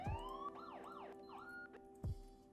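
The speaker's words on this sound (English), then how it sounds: "unique sirens like this" A police vehicle siren in a sheriff's patrol video game rises, then gives rapid swooping wails and yelps. Short electronic horn blasts open and close the sequence, at moderate loudness.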